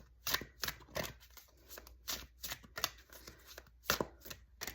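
Tarot cards are shuffled in quick repeated riffles and flicks, about a dozen crisp bursts close up, with quiet pauses between them.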